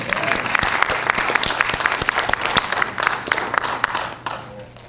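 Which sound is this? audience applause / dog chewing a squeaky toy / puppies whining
audience applause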